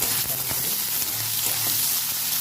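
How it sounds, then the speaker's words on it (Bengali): Bori lentil dumplings fry in hot oil for a Bengali note shak bhaja, giving a steady close sizzle with a few faint clicks of stirring and no talking. "বড়িগুলোকে ভেজে নেব।"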